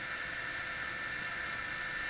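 A drill bores holes into an Inconel valve body, a steady high-pitched whine that holds constant and loud for the whole short stretch, with no voices.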